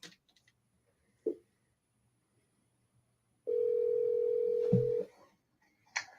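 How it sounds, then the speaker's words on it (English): A phone places an outgoing call: a short tone, a pause, then a sustained ringback tone lasting about a second and a half, with faint clicks around it, heard close and alone. "And let's call Rob."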